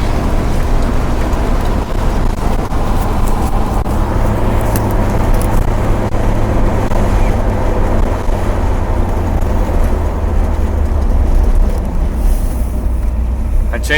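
A 1977 Chevrolet Corvette C3 with a new transmission cruises on the highway, giving a constant loud engine drone and road roar that stays steady the whole way with no pauses.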